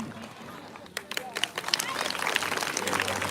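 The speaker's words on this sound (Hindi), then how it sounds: "फिल्म नहीं मिला दे के लिए जोरदार ताली बजा दो" A crowd at a film event breaks into clapping about a second in, the applause thickening and growing steadily louder, with voices and crowd murmur mixed underneath.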